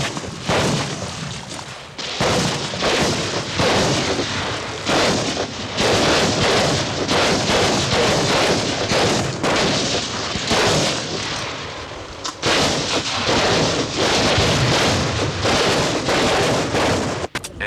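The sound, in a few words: live ammunition gunfire and artillery during military training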